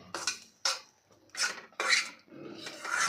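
A spoon scrapes and stirs through roasted semolina mixed with milk in a pan on a low gas flame, five or six distinct scraping strokes with short pauses between them, close up and with no talking.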